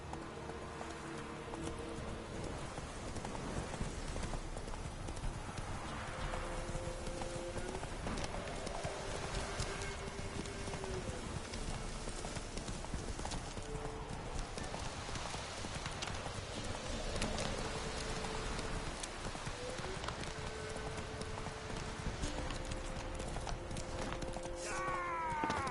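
Steady rhythmic horse hooves clip-clopping in a video game, continuous and moderately loud, with an occasional faint whinny over a game soundscape.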